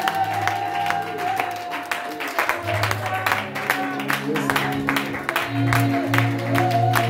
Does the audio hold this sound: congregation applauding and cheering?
yes